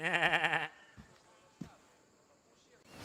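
A goat bleats loudly and close in the video game Assassin's Creed Odyssey, a single wavering cry lasting about half a second, followed by quiet ambience and a soft thud.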